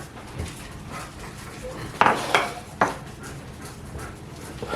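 A mortar and pestle crushes a good handful of medicinal herbs, giving a few sharp, close knocks and grinding scrapes in a brief cluster over a quiet indoor background.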